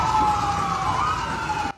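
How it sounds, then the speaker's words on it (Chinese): Fire truck and ambulance sirens wail steadily and loudly at an old apartment building fire after a gas explosion, a sustained tone with traffic rumble beneath, cutting off at the end. "消防车跟救护车不断来增援"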